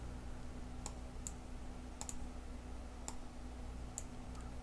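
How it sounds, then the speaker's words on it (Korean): Faint computer mouse clicks sound against a steady low hum: a few sparse single clicks, with one quick double click near the middle, and no voices. "더블 클릭."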